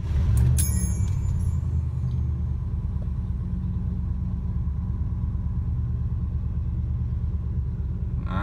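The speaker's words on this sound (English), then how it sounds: "let's take it for a test drive" A 1970 Lincoln Continental barn find rolling along on a test drive, its engine a steady low rumble with continuous road noise from inside the cabin and no one talking.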